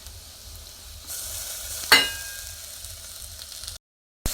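Half a tomato dropped into vegetables frying in a pan for vegetable rice, giving a sudden hiss that swells over a steady background sizzle with soft stirring scrapes, close and alone.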